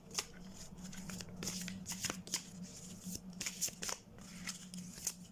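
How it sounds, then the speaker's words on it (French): Oracle cards are shuffled by hand in a quick run of crisp riffling slaps and rustles, close but fairly quiet, with no talking. "On va tirer une petite carte."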